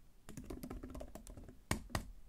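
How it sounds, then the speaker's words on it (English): Rapid typing on an Apple Magic Keyboard, a quick run of soft, close key clicks with a couple of firmer taps near the end, quiet and uninterrupted by talk. "Let's go to notes and try typing something."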